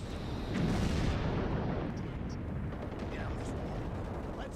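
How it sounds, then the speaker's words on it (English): Anti-aircraft guns firing in Rogue Trooper Redux, heard as a heavy, continuous rumbling barrage that swells early and then holds steady at a distance, with faint scattered cracks on top. "And then we cut to one of the anti-aircraft guns."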